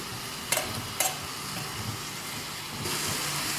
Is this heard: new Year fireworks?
no